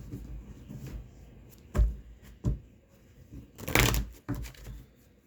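A deck of tarot cards is shuffled close up and quietly, with several short riffling and tapping bursts separated by pauses against a soft room hush.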